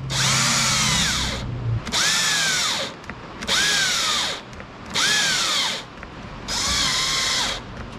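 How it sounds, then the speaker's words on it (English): A cordless drill bores into ABS plastic during a motorcycle tour pack install, with five loud bursts of whining motor, each about a second long with brief pauses between, close up. "The drill doesn't suck, it's just the batteries."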